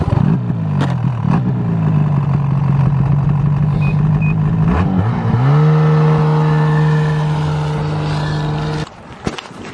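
A snowmobile engine accelerating hard into a hill, a loud close droning roar that rises in pitch, holds steady, then climbs again before cutting off near the end.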